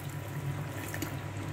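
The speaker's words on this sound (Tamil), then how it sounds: "நான் தண்ணி ஊற்றிக்கிறேன்" Water poured into a pot of chicken curry (chicken kulambu) on the stove, a steady soft splashing trickle close by, brief and alone without talk.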